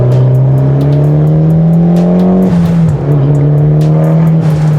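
A loud, close engine roars as a stanced Mitsubishi Evo with a manual gearbox accelerates hard, pitch climbing steadily, dipping briefly at a gear change, then rising again.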